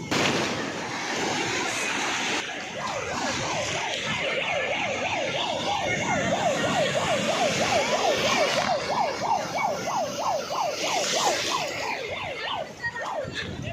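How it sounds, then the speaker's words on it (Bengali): A warning siren at Puri beach, sounded when swimmers go too far out in rough sea, wails in a rapid rising-and-falling pattern for several seconds over a constant roar of surf. "এই যে সাইরেনটার আওয়াজটা শুনলে,"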